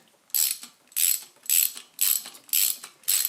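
A ratchet wrench turns bolts on the engine of a John Deere 755 tractor, with six even, loud, close clicking bursts about half a second apart and no talk.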